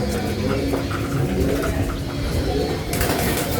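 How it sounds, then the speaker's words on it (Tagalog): A wild bird, not a racing pigeon, coos nearby in soft repeated notes while racing pigeons are awaited at a final-lap arrival in Tacloban, set over steady background noise with faint voices underneath. "Ala, ibon ligaw eh."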